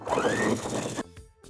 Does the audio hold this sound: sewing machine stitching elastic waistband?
yes